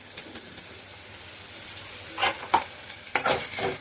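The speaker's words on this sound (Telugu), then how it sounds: "ఫస్ట్ ఆఫ్ ఆల్ ఆనియన్స్, కరివేపాకు, పచ్చిమిర్చి వేసుకొని లైట్ గోల్డెన్ కలర్ వచ్చే వరకు వేయించుకోవాలండి." Onions, curry leaves and green chillies frying in a pan for mutton keema curry, with a low continuous sizzle broken by several sharp stirring scrapes toward the end, and no talking.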